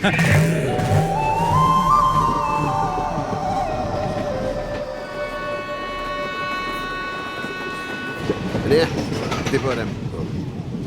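A train rumbles along the rails with a loud, steady roar, high whining tones rising and fading early on, and voices faintly underneath.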